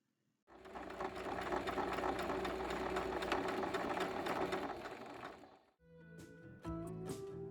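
Sewing machine topstitching along the top hem of a reversible fabric tote bag, running in one continuous steady whir for about five seconds, then stopping briefly before a shorter, quieter burst of stitching starts again.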